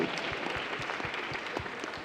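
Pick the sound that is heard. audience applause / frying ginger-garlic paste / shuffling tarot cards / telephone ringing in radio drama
audience applause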